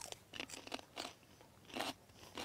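Crunchy fresh garden peas are bitten and chewed outdoors in sunshine, giving several crisp, close crunches in an irregular rhythm, quiet and without talk.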